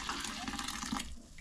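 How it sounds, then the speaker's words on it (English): Cooking water is poured out of a Ninja Foodi cooker pot after duck, a continuous splashing gush that runs strong for about a second, then thins and trails off. "So let's take the water out"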